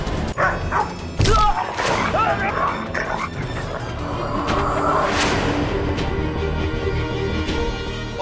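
Dog giving a couple of short barks and yips near the start, mixed with other voices and scuffling noise, then a steady dramatic background of music and ambience with talk.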